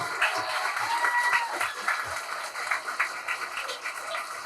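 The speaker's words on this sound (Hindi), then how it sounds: "एक बार जोरदार तालियां इन दोनों के लिए।" Audience applause at a school drama performance for students, a dense crowd clapping continuously and fairly loud throughout.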